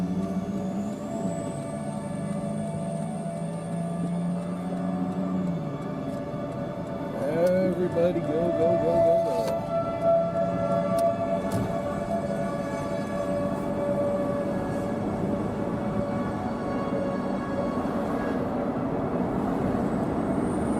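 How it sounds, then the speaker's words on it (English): A tornado warning siren at a Love's truck stop holds a long, steady wail in the distance over low engine rumble, while a person briefly shouts nearby. "This is a classic sounding tornado siren."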